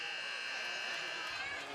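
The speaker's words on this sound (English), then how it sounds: "Yeah, right at the buzzer there." A game-ending buzzer sounds over the final seconds of a summer elite league ice hockey game, a loud steady electronic tone holding through the whole moment amid rink noise and crowd.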